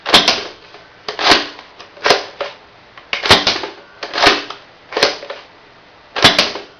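A Hasbro Nerf N-Strike Firefly REV-8 glow-in-the-dark dart blaster fires eight times, each shot a sharp snapping pop followed by a brief mechanical rattle, spaced roughly one second apart and heard up close.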